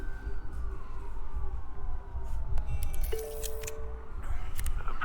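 Police car sirens in Batman: The Telltale Series wail and sweep over a rumbling background, with sharp clicks and bursts scattered through the sound.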